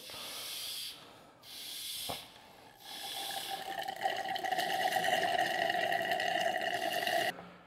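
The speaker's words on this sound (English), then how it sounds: "Now I have a pump that lets me take some of the fluid out" A small hand pump draws brake fluid out of the reservoir of an S14 240SX, first giving a few short hissing strokes and then a steady buzzing, whirring suction that is soft and close, with no talking.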